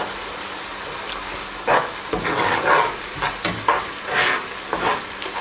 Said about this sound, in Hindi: अब मैं इसके अंदर 2 टेबलस्पून मैंने जिंजर और गार्लिक पेस्ट लिया है